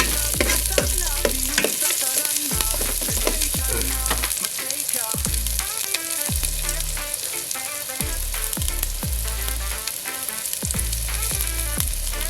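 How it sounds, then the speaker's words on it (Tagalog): Chopped onions frying in hot oil in a pan while Filipino native chicken in coconut milk is being cooked, a steady loud sizzle with repeated scraping stirs at a fairly even rhythm, close by with no talking. "Ilagay na natin itong ating sibuyas."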